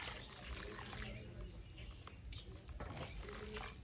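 Water mixed with rooting powder trickles and splashes as it is poured for potting bougainvillea cuttings, with soft irregular dribbling close up.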